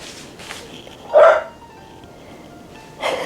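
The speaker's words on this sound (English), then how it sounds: "Do you hear her barking?" A dog gives a single clear bark near the middle of the short clip, with fainter yips before and after against a quiet background.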